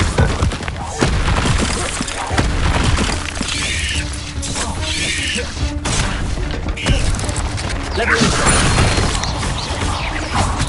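Incendio fire spell blasts in Hogwarts Legacy, set against a deadly great spider, a dense run of whooshing bursts and crashing impacts that carries loud and steady through the whole stretch, with game noise layered underneath.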